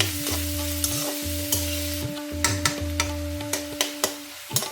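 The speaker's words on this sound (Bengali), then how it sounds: "পেঁয়াজটা একটু ভাজা ভাজা হয়ে গেছে" Chopped onions fry in a pan with a steady sizzle, broken by repeated scraping strokes of a spatula stirring them, close and moderately loud, with no one speaking.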